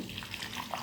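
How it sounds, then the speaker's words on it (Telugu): Water splashing and trickling into a bowl of butterfly pea flowers, a short, steady wash of sound with small splashes, close by. "వాటర్ పోసుకొని"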